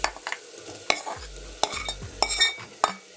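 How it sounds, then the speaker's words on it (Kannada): Fried radish stirred into a sizzling pan mixture, a spatula scraping and tapping the pan in several distinct strokes over a soft, steady frying hiss, close by. "ಅದನ್ನು ಇದಕ್ಕೆ ಸೇರಿಸ್ಬಿಟ್ಟು ನೀಟಾಗಿ ಒಂದ್ಸರಿ ಕಲಸಿ"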